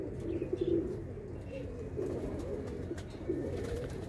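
Pigeons kept in a loft coo in several low rolling bursts, soft and fairly close, spaced a second or so apart over a quiet background hum.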